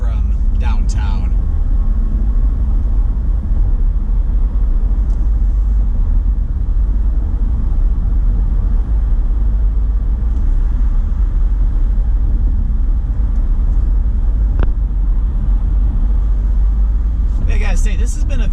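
Steady low road rumble from a car driving along Lake Shore Drive in Chicago, a continuous engine and tyre drone throughout with brief passing noises near the start and end; a voice talks over it.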